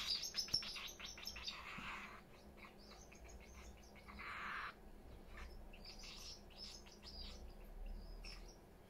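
Pet parrots in a home chirp steadily in rapid, high tweets and trills with short gaps. The sound is fairly faint and lasts throughout, and no one talks.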